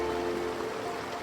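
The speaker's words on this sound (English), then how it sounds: "you can hear the sounds of the waterfall in the background" Minnamurra Falls waterfall flowing in a forest gorge, heard as a soft, steady rushing wash of water in the distance, continuous and even with no voices.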